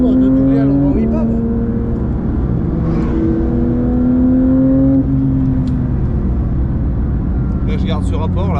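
A Porsche GT3 992.1 race car drives a lap at Spa, its engine a steady loud drone from inside the car with pitch shifts as gears change, the driver talking over it.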